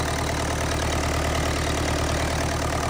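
An International AW7 tractor with a water pump that is not spinning runs steadily at idle, its engine giving a close, even, low rumble with a faint rhythmic knock and no talking.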